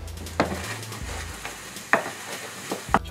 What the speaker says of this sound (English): steak, oats, and eggs. I'ma cook it up,